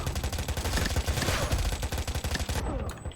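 Rapid gunfire from war weapons in the video game World War Legion, a dense burst of repeated shots cutting off abruptly near the end.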